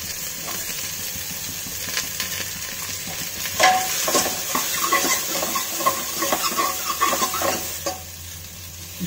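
Onions for a mutton dish sizzle and fry in a pan while being stirred, a steady hiss broken by repeated scraping strokes of the spoon, close and fairly loud with no talking.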